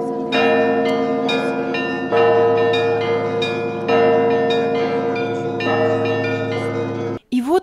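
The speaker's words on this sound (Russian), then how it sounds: "Переливы колоколов" Church bells ring out in overlapping peals at the Vologda Kremlin during a museum night event, loud and sustained with repeated strikes, before a brief cut at the end.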